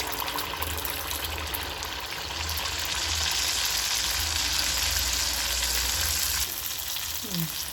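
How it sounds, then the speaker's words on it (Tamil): Sweet Karthigai appam batter fries in hot oil with a loud, continuous close sizzle and bubbling hiss that swells midway before easing slightly near the end. "பாருங்கள் என்ன மாதிரி சவுண்டு வருது, புஸ் புஸ்ஸுன்னு ஒரு மாதிரி"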